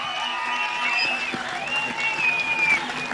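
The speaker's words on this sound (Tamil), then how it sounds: "நல்ல ஒரு பெரிய கரகோஷம் கொடுங்க" At a Tamil film audio launch, a large crowd applauds a singer after a tough song, a steady rush of clapping with sustained tonal music or feedback ringing over it.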